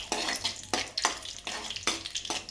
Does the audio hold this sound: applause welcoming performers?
no